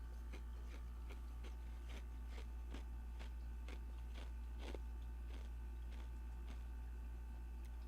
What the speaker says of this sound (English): Can you guys hear me chewing ice?